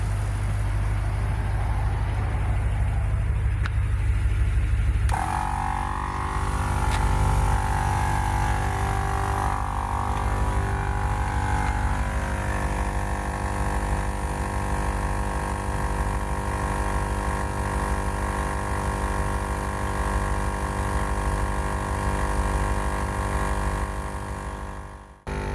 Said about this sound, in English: And then I got the little inflator, I should say, hooked up to the tire.